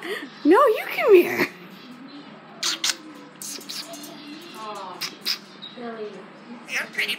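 A pet bird gives a quick run of harsh, rising and falling squawks near the start, then scattered shorter chirps follow over a quiet indoor background, with a person talking nearby.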